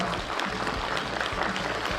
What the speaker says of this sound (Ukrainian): Оплески гучніше